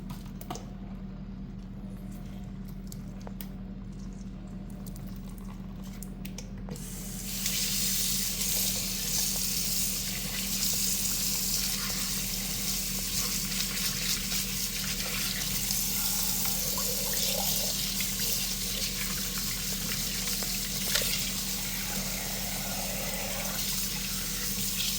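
Tap water running steadily while fish is washed in a sink, a constant close hiss and splash that grows louder partway through and then continues with slight squishy handling sounds.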